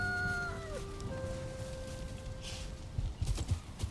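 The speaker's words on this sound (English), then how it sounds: "Yay, more chickens!" Chickens and chicks in the Valheim video game give several soft, high clucks and peeps early on, over a dense game ambience with tonal music, with a few louder knocks and rustles near the end.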